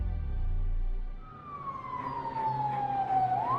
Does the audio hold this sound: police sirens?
yes